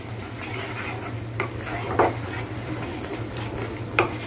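Snake gourd with salt and spices being sautéed in a pan, a steady low frying hiss with occasional sharp spatula scrapes against the pan, close by and without talk.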